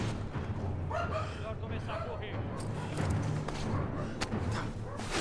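The dog Buddy barks nervously in The Last of Us Part II, several short bow-wow barks and yips scattered over game noise and close talking.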